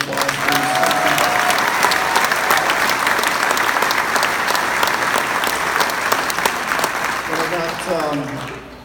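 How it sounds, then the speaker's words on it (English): A full round of applause from an audience at a Nick Nurse Day event in Iowa, clapping for Roberta; dense, steady clapping with some cheering holds throughout, then fades near the end as a voice comes in. "So let's give Roberta a round of applause, please."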